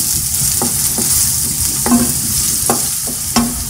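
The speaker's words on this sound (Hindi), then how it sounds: "इसमें बारीक कटा हुआ 1/2 प्याज डाल देंगे। अब इसको हम 2 से 3 मिनट तक फ्राई करेंगे" Finely chopped onion frying in oil, a loud steady sizzle broken by several crisp spatula scrapes at irregular intervals, close up and with no speech.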